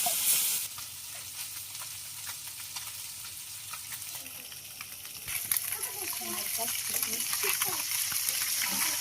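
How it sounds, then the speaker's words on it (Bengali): Small fresh puti fish frying in hot oil in a kadai, a continuous hiss and crackle that grows busier as the fish go in, with a voice talking over it. "তো আমি এখন মাছগুলো ভেজে নেবো"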